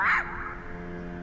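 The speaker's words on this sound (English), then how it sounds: "So that is Snuggly the Crow." A single short nasal squawk from Snuggly the Crow in Dark Souls 3, fairly close, quickly fading into a low steady ambient hum.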